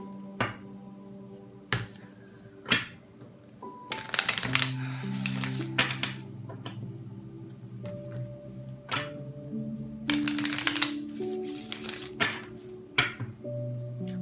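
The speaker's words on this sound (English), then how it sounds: "One last shuffle." Tarot cards are shuffled by hand, making soft riffling and crisp snapping bursts that recur in irregular clusters close by. A faint steady tone plays underneath.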